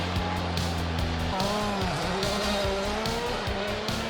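Two Lancia Delta Integrale rally cars at the starting gate of a rally qualifying event, engines revving loudly with rising and falling pitch and a sustained squealing tone throughout.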